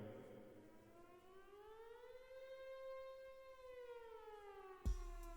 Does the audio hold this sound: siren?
yes